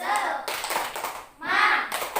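A class of children clapping a rhythmic spirit clap together in a classroom, a quick run of claps in two bursts with a short pause between, with children's voices mixed in.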